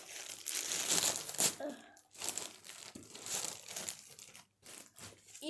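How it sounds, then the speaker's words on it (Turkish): Plastic wrapping on a FNAF toy package crinkles and crackles in several close, uneven bursts as it is pulled open, with short quiet gaps between them. "bir paketi açtık. Şimdi kal diğer paket."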